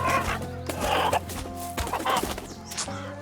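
A chicken in the video game Egging On clucks in a series of short, bright calls over a steady game soundtrack, fairly loud and close.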